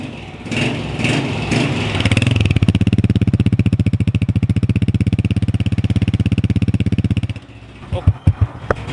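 A restored Honda 125 motorcycle engine chugs at a steady single-cylinder idle with a fast even thump for several seconds, then cuts out into a few sharp blips, with voices talking over the start.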